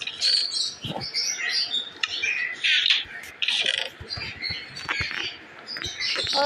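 Pet parrots screech loudly and repeatedly at close range, with harsh overlapping squawks and chirps running almost without a break.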